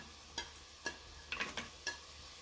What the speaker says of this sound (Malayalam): ഇത്രയും ചേർത്തിട്ട് നല്ലപോലെ ഒന്ന് വഴറ്റിയെടുക്കാം